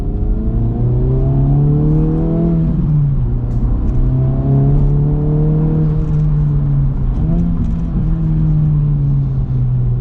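An Acura Integra Type S engine with a manual gearbox runs loudly and close, dropping into two quick rev-matching blips on downshifts amid a steady droning pull.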